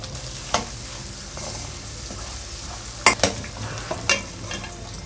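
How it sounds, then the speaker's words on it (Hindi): Boiled chickpeas frying in hot mustard oil in a kadhai, a continuous sizzle broken by several crisp scraping stirs and metallic clicks, clustered toward the end, with no voices. "अब हम इन्हें फ्राई करते हैं तेल के अंदर।"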